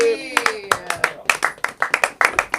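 A comedy club audience claps for a comedian, with steady, evenly spaced hand claps and a voice briefly heard at the start.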